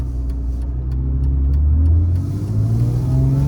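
A 2003 BMW E46 M3 CSL engine rumbles and pulls under acceleration, its deep drone rising steadily in pitch with a brief dip like a gear change, heard continuously from inside the car.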